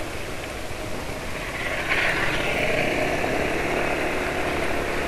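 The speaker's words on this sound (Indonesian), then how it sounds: "Silakan dibandingkan sendiri suara motornya penulis ini termasuk halus atau enggak." A Yamaha NMAX scooter engine idles with a steady, even hum and a smooth, continuous tone that gets slightly louder partway through. No one speaks.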